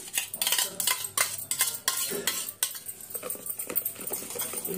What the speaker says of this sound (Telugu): ఇలా గిలక కొట్టుకోవాలండి పెరుగుని